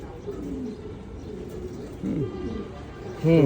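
A pigeon coos in low, rolling bursts, a couple of close calls against steady background noise.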